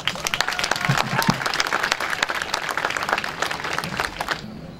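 An audience at a community gathering breaks into warm applause for a speaker, a dense burst of clapping that swells and then gradually thins out over a few seconds.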